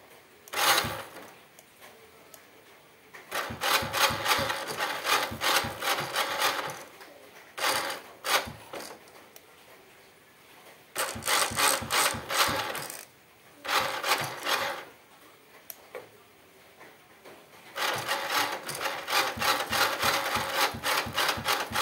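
Starter gear on a Honda Supra Fit motorcycle with a double starter cranks in several loud bursts of rapid mechanical whirring and grinding, separated by short quiet pauses, after oil is added to the unlubricated gear.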